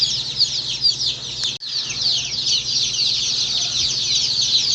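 Healthy chickens from Cackle Hatchery, newly brought home to northern Michigan, clucking and chirping busily and continuously at moderate volume, with a brief break midway and no talk.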